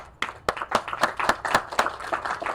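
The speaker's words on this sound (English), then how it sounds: "Let's give them a round of applause, please." An audience at a school groundbreaking ceremony gives a brief round of applause: distinct individual claps, a sparse, close crowd clapping rhythmically for a couple of seconds.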